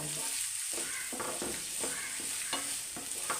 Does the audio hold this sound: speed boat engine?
no